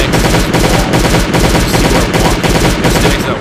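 Turret gunfire in the Last Day On Earth video game plays as a loud, continuous stream of rapid shots, evenly spaced and close, holding steady without a break throughout.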